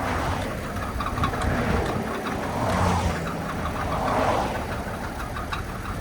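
Car engine running just after starting, a steady loud rumble with a rough knocking undertone from a rebuilt engine that sat nine years, showing no oil pressure, close and continuous with no voices.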